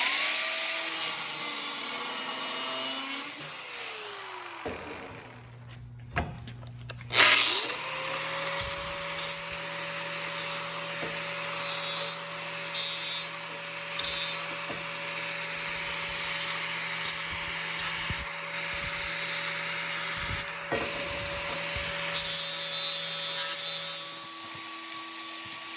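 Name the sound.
power tool cutting off a piece of ornamental iron gate metal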